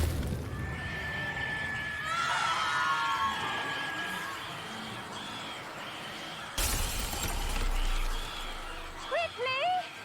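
A mandrake screams in the video game Hogwarts Legacy: loud, shrill, whinny-like screeches with rising and falling pitch, a sharp burst near the end, over game ambience and voices.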